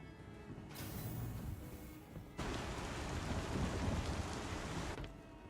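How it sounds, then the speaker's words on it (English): Steady rain hisses inside an elevator in the Star Citizen video game, a broad wash that cuts out briefly and then returns louder, running alone without talk. "I got a little distracted by the rain sound in the elevator that shouldn't be there."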